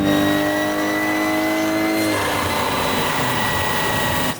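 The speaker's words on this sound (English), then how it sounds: "it sounds like we've got a car on the dyno" A car revs hard on a dyno at a rev battle event, a loud sustained engine note with strong steady harmonics that shifts and roughens about halfway through, close and continuous throughout.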